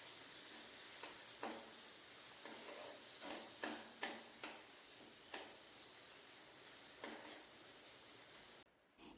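Chopped shallots sauté in oil for a Kerala ivy gourd thoran, a quiet steady sizzle punctuated by soft, irregular scraping stirs of a spatula in the pan.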